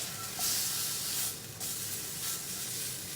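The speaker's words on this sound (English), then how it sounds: "I'm just getting a nice sear on this" A rack of lamb sears in a hot pan, giving a steady broadband hiss with brief louder sputtering bursts.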